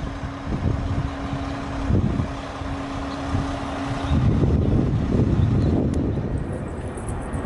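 A diesel vehicle engine idles steadily in the open, its low rumble continuous with a humming tone early on, mixed with wind buffeting and outdoor traffic noise, moderately loud throughout.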